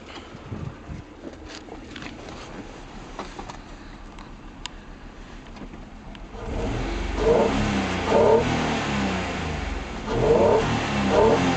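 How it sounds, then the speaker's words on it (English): A 1991 Acura Honda NSX, black with a five-speed manual and about 130,000 miles, idles quietly at first, then a steady, fuller engine drone with rising swells is heard up close, mixed with wind buffeting at the microphone. "the motor runs very smoothly"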